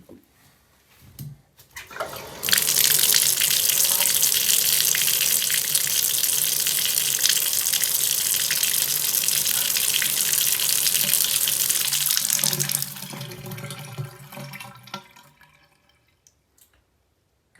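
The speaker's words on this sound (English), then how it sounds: "I'll make sure that it drains with the cap on" Water running into and draining from a bathroom sink after a drain unclog, a steady loud rushing flow lasting about ten seconds, then a gurgling trickle as it empties away.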